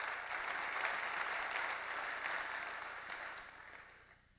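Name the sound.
audience applause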